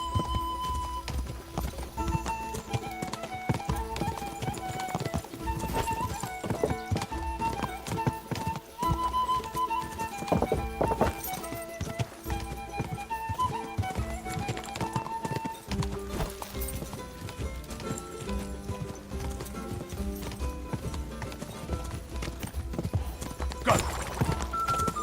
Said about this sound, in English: This horse has so much stamina.